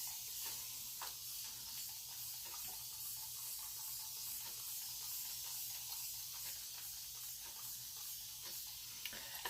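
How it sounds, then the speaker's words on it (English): Spray bottle misting curly hair to refresh it with gel, with a continuous soft hiss broken by faint repeated pumps as all sides are sprayed evenly. "evenly spraying all sides of my hair."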